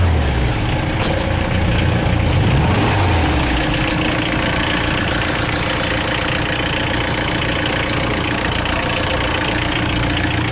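A VW T4 van engine idles steadily, a dense mechanical rumble with a faint knocking rhythm, close and loud throughout with no talking.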